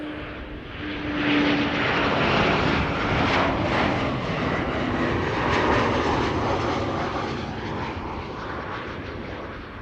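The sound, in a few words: KLM Embraer jet arriving, flight 1020 from Leeds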